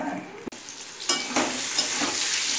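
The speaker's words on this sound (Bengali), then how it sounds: "ডিমগুলোকে এখন ভেজে নিচ্ছি।" Eggs fry in a pan as a soft sizzle swells into a louder, steady crackle after a sharp utensil knock, with stirring scrapes mixed in and no speech.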